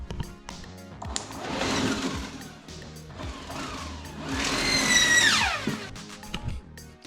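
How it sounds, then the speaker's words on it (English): A small salvaged blower motor whirs up and winds down in two surges, a close, mechanical spinning hum with rattling edges and no talking. "Turns out that these blower motors suck air in through this portion and then blow it out this way."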